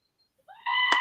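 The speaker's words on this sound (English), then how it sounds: "Screaming goat." A goat lets out a sudden loud bleating scream near the end, rising sharply from near silence.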